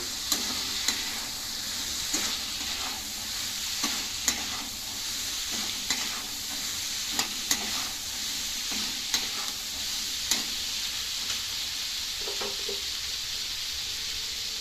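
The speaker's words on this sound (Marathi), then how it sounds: "आणि आता हे आपले चणे चवीपुरतं मीठ, त्याला परतून घेऊया।" Chickpeas seasoned with salt are sautéed in a pan for chana chaat, a continuous close sizzle with scattered sharp ticks and scrapes from the stirring utensil running throughout, and no voices.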